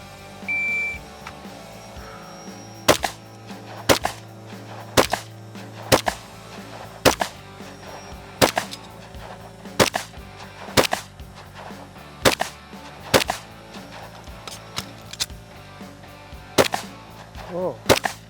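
Gunfire from a shooter working a competition course of fire, a steady string of loud, sharp single shots spaced about a second apart at close range, with a brief beep at the start.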